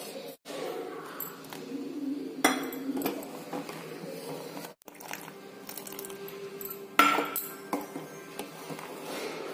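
A spoon stirs boiling milk in a pot over a low flame as lemon juice goes in bit by bit to make paneer; scattered metallic clinks and scrapes ring out over a steady bubbling hiss.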